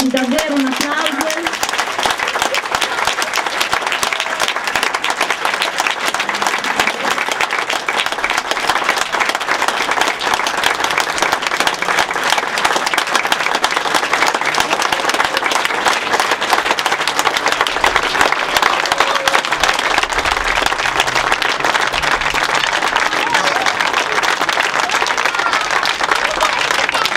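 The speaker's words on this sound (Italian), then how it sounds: "Quindi davvero un applauso." A crowd at the inauguration of a small sports field in Vergato, Italy, applauds at length, dense sustained clapping close and loud throughout, with a few voices mixed in.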